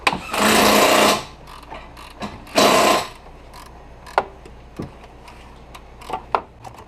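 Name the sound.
pressing clutch fan bearing into housing with socket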